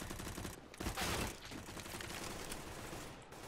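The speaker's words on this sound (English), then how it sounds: "Who's shooting at me?" Rapid bursts of gunfire in a Counter-Strike: Global Offensive match, a dense fusillade of shots that runs steadily through a few seconds at moderate level with no talk over it.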